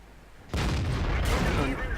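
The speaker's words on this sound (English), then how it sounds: "takes a snapshot and hits the most heavily armored part of the T28 prototype" A tank cannon shot in a tank video game, T32 against a T28 prototype: a sudden loud, close blast that rolls into a heavy, sustained rumbling roar.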